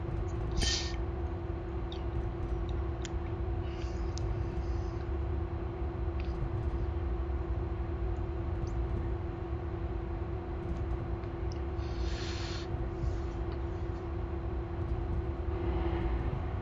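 A train running cross country in Train Sim World 2019 gives a steady low rumble and drone of engine and wheels throughout, with a few faint clicks and clanks on top.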